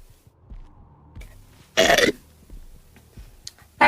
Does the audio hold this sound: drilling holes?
no